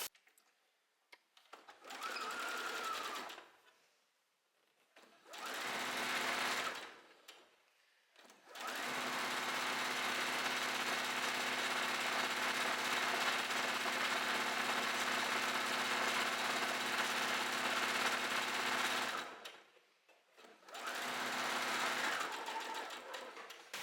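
A sewing machine stitching fabric straps for a top runs in close bursts: two short runs, then a long steady stretch of rapid humming stitching, a pause, and another short run.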